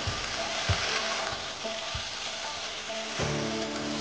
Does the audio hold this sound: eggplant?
yes